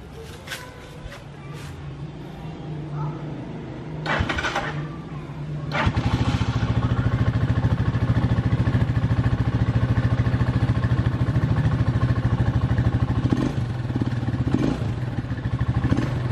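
A Rusi motorcycle with a freshly adjusted carburetor, cranked with a few clattering kicks before the engine catches and settles into a loud, steady idle close by, with some brief knocks over the running engine.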